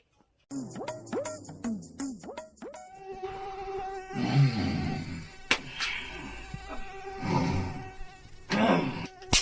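A mosquito buzzes in a bedroom at night. A thin, whining drone persists throughout, and several sharp rising-and-falling whines are heard early on.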